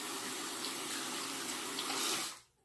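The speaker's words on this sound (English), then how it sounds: "So I'm going to rinse my hand off here." A hand being rinsed under a running tap, a steady close rush of water that stays even for about two seconds and then cuts off abruptly as the flow stops, with no voices.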